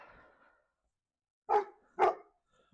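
A dog indoors at home lets out two sharp, close barks about half a second apart, after a brief soft whimper-like sound and a stretch of silence.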